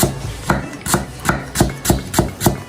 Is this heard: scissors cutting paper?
no